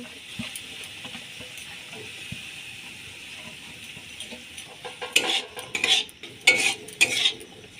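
Paneer being stirred with spices in a pan, a low sizzle under scraping and clinking spoon strokes that grow louder and more rhythmic toward the end.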